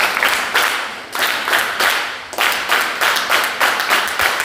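An audience at a seminar performs a rhythmic group clap, many hands striking in unison in short regular bursts, loud and close, with brief gaps between the rounds.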